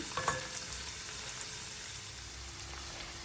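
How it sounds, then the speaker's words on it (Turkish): Onions sizzle and crackle steadily in hot olive oil in a pan, close and quiet, with a faint clink and stirring scrape near the start. "İçerisine ekliyorum ve öncesinde soğanı yumuşayıncaya kadar kavuruyorum."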